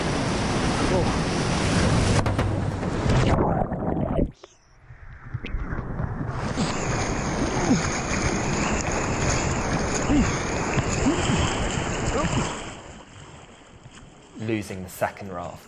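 Rough river rapids in northern Pakistan roar loudly and continuously around a raft, with splashing surges and wind buffeting, a brief drop in the rush midway, and a voice speaking over the water.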